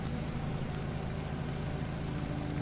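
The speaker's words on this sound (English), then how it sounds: "it's the noise of the motor." A motor runs in the survival video game Jaws Of Extinction, a steady, even engine drone with a low rumble that stays constant throughout without any talking.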